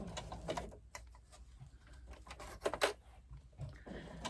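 A sewing machine stitches across the tab of a fabric pouch, giving quiet mechanical whirring and clicking in short bursts with brief pauses, faint and close.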